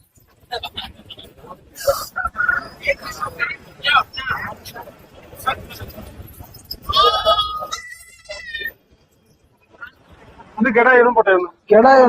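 Goats and young kids bleat repeatedly at the Kunnathur goat market, loud close cries in irregular bursts mixed with people talking and bargaining nearby.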